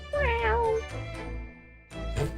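A pet cat meows several times up close, with rising and falling wavering calls in quick succession and a louder final meow.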